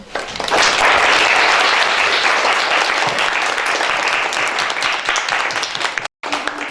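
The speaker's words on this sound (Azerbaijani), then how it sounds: "Səbuh müəllimi və şagirdləri istərdim ki, bir ürəkdən alqışlansın" Warm applause from an audience at a school open lesson in Mamırlı, honouring a geography teacher and his students, with dense sustained clapping for several seconds and a brief dropout near the end.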